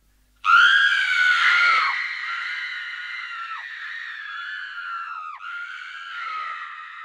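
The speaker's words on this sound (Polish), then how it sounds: "W chwilę później krzyk kobiety." A woman's long, piercing scream after a truck hits a bus in a radio drama, bursting in loud and close, then holding as a sustained wavering wail that fades slightly, alone without other sounds.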